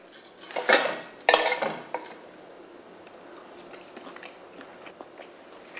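Someone bites into homemade sausages with two sharp, crisp crunches early on, then softer chewing and faint cutlery and plate clinks in a quiet room.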